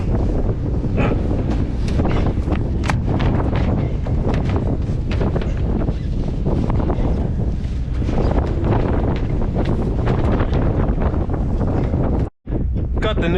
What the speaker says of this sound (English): Man, it's getting windy.